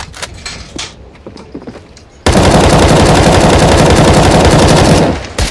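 Rapid bursts of automatic gunfire in Counter-Strike: Global Offensive on the Lake map in Wingman mode, starting abruptly and hammering on loud and continuous for about three seconds after a quieter stretch of scattered game sounds.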